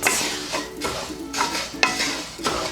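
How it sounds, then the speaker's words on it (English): Orzo toasting in a pot for a one-pot chicken sausage dish, stirred with a utensil in a regular scraping rhythm over a continuous sizzle, close up with no voices. "now we're gonna let the orzo toast for about a minute"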